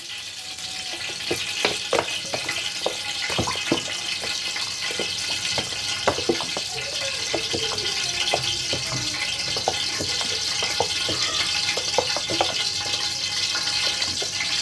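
Wood-pressed groundnut oil, a second 200 grams, is poured into a pan for dum biryani, giving a steady, continuous pouring and liquid rush with a light sizzle throughout, near and fairly loud, with no talking.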